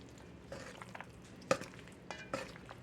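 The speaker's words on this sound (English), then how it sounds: "And then we're going to stir it in to see. Just be gentle, fold it in." Pasta salad being gently stirred and folded in a bowl, with soft scraping and moist squelching strokes, a few sharper clinks of the utensil against the bowl, close and fairly quiet.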